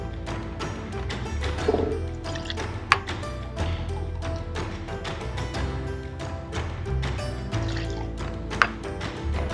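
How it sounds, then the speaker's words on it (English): Cognac, a VS grade, poured into a cocktail measure: a steady liquid trickle with small clinks and drips, near and moderately quiet, no talking. "we're gonna start off with 60 milliliters of cognac"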